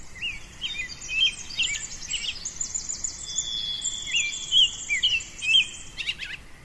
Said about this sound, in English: We head off down the trail, and the birdsong just comes alive.